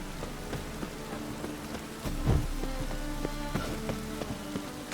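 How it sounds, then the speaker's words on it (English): Steady rain patters over a constant background in The Witcher 3: Wild Hunt, with game music tones and a brief low thump near the middle. "Rain again. Damn mages."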